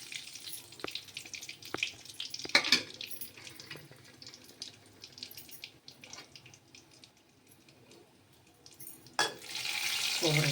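Cumin seeds sizzling and crackling in hot oil in a pan while cooking dal gaduri bhaji, a steady frying hiss with scattered pops and clinks of a utensil, rising louder near the end.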